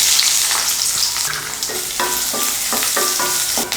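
Finely chopped onion frying in hot oil with mustard seeds and curry leaves, a loud bright crackling sizzle with a few quick spatula scrapes and stirs, no talk.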